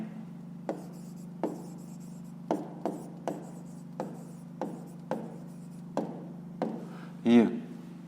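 Pen or pencil writing numbers for a math exercise, a string of short scratchy strokes and taps spaced at irregular intervals over a steady background hum, fairly faint, with no talk.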